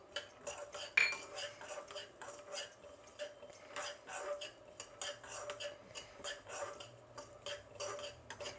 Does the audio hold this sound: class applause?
no